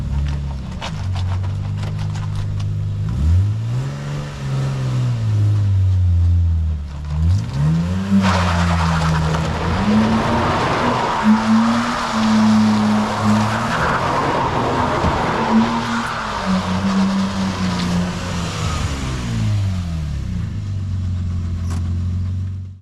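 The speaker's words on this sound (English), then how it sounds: "we can now skid in the Is200" Stock Lexus IS200 with a welded differential and soft rear tires skidding, its engine rising and falling in repeated revving swells while tires squeal loudly and continuously through the middle, up close with no talking.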